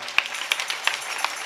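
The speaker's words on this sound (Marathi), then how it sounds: "पण जे काकडा करतात त्याच्यासाठी एकदा जोरदार टाळ्या वाजवा." Brief scattered hand claps from an audience at a Marathi kirtan, a few sharp separate claps spaced out rather than full sustained applause, moderately near.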